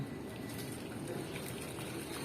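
Melted jaggery syrup poured through a sieve into batter for unniyappam, giving a steady, soft liquid trickle that runs evenly throughout without talk.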